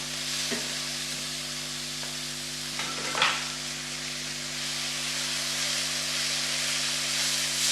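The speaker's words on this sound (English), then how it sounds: "So I'm just going to add the kales first, because they are much tougher than the spinach" Kale leaves frying in a pan give a steady, close sizzle and hiss, with a few brief stirring clatters early on and no talk.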